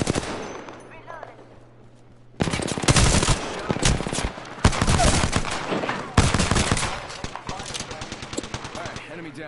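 Rapid bursts of automatic gunfire and single shots from a PS4 shooter game, loud and close, arriving in dense clusters separated by short gaps, with speech mixed in.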